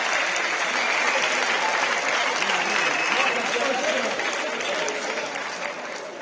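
Students fill a hall with sustained, loud applause, a thick wash of many hands clapping that tapers slightly toward the end, with no clear voices over it.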